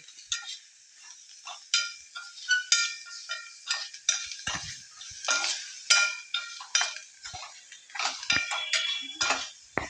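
Turmeric and chili powder being stirred in a pot for a taro root stew, with a continuous run of scraping spoon strokes and light metallic clinks at an irregular rhythm, close and fairly quiet.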